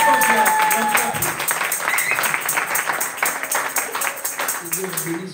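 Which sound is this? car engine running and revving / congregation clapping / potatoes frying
congregation clapping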